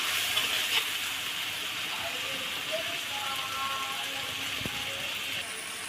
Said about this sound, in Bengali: দিয়ে দিলাম মরিচের গুঁড়া, ভালো করে মশলাটা কষাই নিচ্ছে